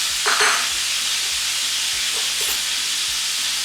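Beef for stroganoff sizzling in a hot pan, a continuous loud crackling hiss with occasional soft pops, close by.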